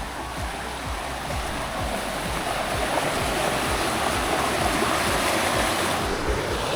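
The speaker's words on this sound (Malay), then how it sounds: "So sini ada mini air terjun." A small waterfall feeding a river stream at a pool in Nakhon Si Thammarat, Thailand, pouring in a constant dense rush of splashing water, close and loud, with no voices.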